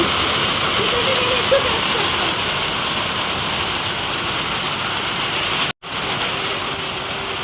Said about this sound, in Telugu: సో వర్షం అయితే బీభత్సంగా పడుతుంది